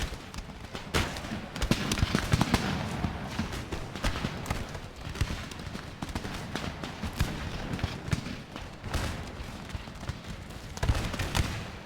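Crackling musket volleys from an Empire Total War battle go off in dense, overlapping bursts, with sharp reports rippling almost nonstop across the whole stretch.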